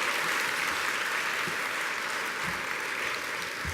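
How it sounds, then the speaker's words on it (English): Sustained applause from an awards-event audience, a dense steady wash of clapping that fills the whole stretch at an even, fairly loud level with no voice over it. "I would just like everybody to give yourself a round of applause for making a difference tonight and being here"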